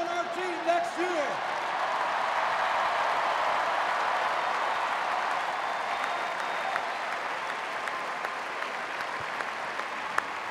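Large crowd applause at a Carolina football welcome event in a stadium setting, broad steady clapping and crowd roar sustained for about ten seconds, with a voice briefly audible at the start.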